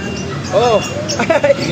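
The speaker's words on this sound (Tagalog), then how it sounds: "Inaabot ako ng pusa." Short meow-like cry from a cat being handed over in a flooded basement market, with water-level chatter around; the cry stands out briefly, mid-loud and close, under people's speech.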